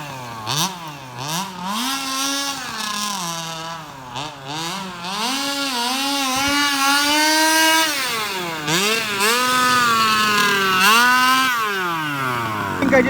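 Gas-powered HPI Baja large-scale RC car engine screaming at high revs with a failing clutch, a loud continuous two-stroke whine rising and falling in pitch with repeated rev swings and no talk over it.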